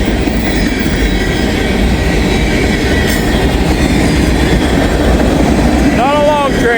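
A short freight or passenger train rolls past loud and close beside a flooded river in stormy weather, a steady rumble of wheels on rail with a brief wheel squeal near the end and a voice talking over it.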